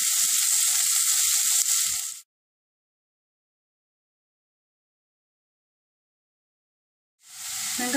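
Onions fry in hot oil in a pan with salt, making a loud, dense, steady sizzle. It cuts to silence for several seconds, then swells back in at the end.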